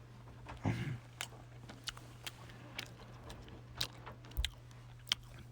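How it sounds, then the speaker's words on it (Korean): Soft, close-up chewing of a slightly melted strawberry-jam-filled macaron, a brief crunchy bite near the start followed by faint, sparse mouth sounds and small clicks in a quiet room. "마카롱 먹으려고 마카롱 가져왔어"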